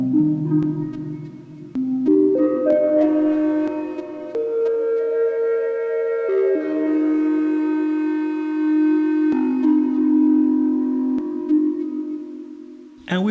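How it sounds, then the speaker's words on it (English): A synth bell patch runs through a Clouds eurorack module, sustained tonal notes that step between pitches with a long shimmering wash, alone and clear. "I have this kind of bell sound here going through the clouds."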